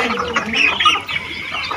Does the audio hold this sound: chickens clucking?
yes